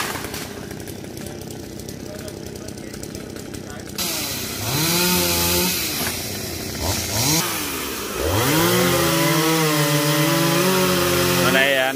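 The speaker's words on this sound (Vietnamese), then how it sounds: "Ở đây anh Văn với anh Dũng đang cưa" Chainsaw cutting branches from an Indian mahogany tree in a garden, the engine droning steadily then revving in long rising and falling bursts as the bar bites into wood, loud and close, with someone talking over it.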